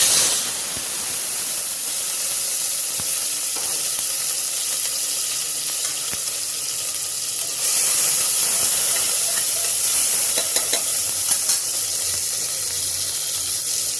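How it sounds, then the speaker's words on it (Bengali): Chopped tomato and green chillies hit hot oil in a pan for an eggplant-potato curry, giving a loud, steady hissing sizzle up close that swells louder about halfway through, with occasional clinks and no voices. "আর এখানে দেখুন টমেটো কাঁচা লঙ্কা কেটে রেখেছি, দিয়ে দেবো।"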